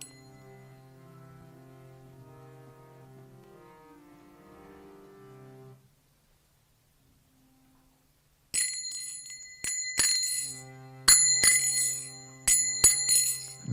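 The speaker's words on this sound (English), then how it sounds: "We got these clunky kartals." Clunky cheap hand cymbals, kartals no longer made of bell metal, clash in bright sharp strokes, loud and close, after a sustained harmonium-like drone and a short silence.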